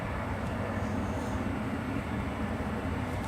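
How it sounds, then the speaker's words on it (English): An Air France airliner taxis at San Francisco International Airport, a steady, fairly loud jet-engine roar with a deep rumble that holds constant throughout. "Air France 83 headed back to Charles de Gaulle"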